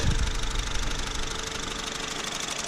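A 2010 Honda CR-Z with its 1.5 petrol hybrid engine idles smoothly nearby, a steady close mechanical ticking over an even low hum with no talk.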